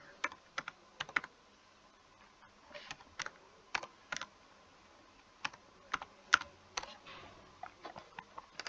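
Someone types on a computer keyboard in a quiet room, with short bursts of sharp, close keystrokes separated by pauses.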